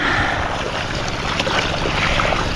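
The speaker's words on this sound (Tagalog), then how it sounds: "Kaya basain na lang ng makina." A diesel engine drives a water pump that irrigates a field of okra and bitter gourd. It makes a loud, constant, rushing drone, with water noise and no talking.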